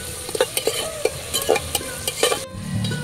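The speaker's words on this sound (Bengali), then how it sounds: "কয়েকটা কাঁচা লঙ্কা চিরা, সবকিছু খুব ভালো করে ভেজে নেব।" Slit green chillies and spices frying in hot oil for egg biryani, a steady sizzle with repeated spatula scrapes and clinks against the pan, fairly close and continuous.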